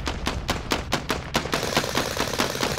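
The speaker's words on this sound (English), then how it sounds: "He's shooting at me." Enemy gunfire in a shooter game: evenly spaced loud shots at about four per second, then a denser stream of rapid fire.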